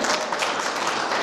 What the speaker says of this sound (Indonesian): Tepuk tangan dulu Tuhan.